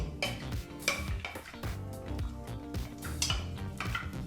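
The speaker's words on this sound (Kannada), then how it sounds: "ಏಲಕ್ಕಿ ಕಾಯಿ ಸ್ಟಾರ್ ಮಸಾಲ ಹಾಗೆ ಲವಂಗನೂ ಸಹ ಹಾಕಿ ಹತ್ತರಿಂದ ಹದಿನೈದು ಗೋಡಂಬಿಗಳನ್ನೂ ಸಹ ಹಾಕಿ ಒಂದು ನಿಮಿಷಗಳ ಕಾಲ ಲೋ ಫ್ಲೇಮ್ನಲ್ಲೇ ಇದನ್ನೆಲ್ಲ ಫ್ರೈ ಮಾಡ್ಕೋಬೇಕು" Whole spices (cardamom, star anise, cloves) and cashews frying over low flame in a pan, with repeated clinks and scrapes of a spoon against the pot over a faint sizzle, steady and close.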